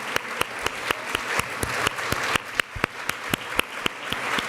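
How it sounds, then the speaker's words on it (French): Audience at a conference hall applauds the designers of a new logo, with crisp claps that run steady and fairly close throughout, with some individual claps standing out sharply. "je propose qu'on les applaudisse"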